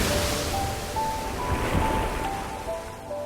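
Broad, steady wash of rushing water like surf or a flood, continuous and fairly loud with a faint sustained tone running through it, no voices.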